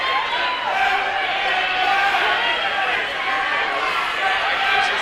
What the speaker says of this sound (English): Crowd getting a little restless